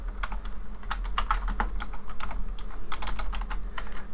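Rapid, irregular clicks of typing on a computer keyboard while entering text into an Amazon seller listing form, close and steady, with no speech throughout.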